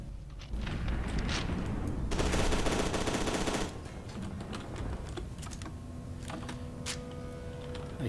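Computer keyboard keys clatter in quick, irregular taps during a FEAR 2: Project Origin gaming session, close and fairly loud, mixed with bursts of in-game gunfire and a dense spray of automatic fire in the middle.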